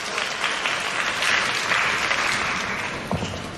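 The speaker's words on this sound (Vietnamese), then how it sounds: "Chúng ta cùng dành một tràng pháo tay thật nồng nhiệt thưa quý vị." An audience at the Ngôi Sao Xanh 2020 awards ceremony gives sustained, dense applause that holds steady throughout, with no voices on top.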